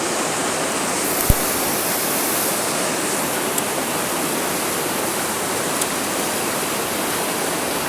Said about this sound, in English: fall off of this huge waterfall I just climbed